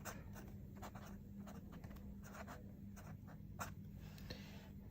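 A fountain pen nib, a fine Leonardo Corsani MZ La Grande Ibrida, scratches across paper in close, steady strokes with brief pauses, a soft continuous scraping under faint low room hum.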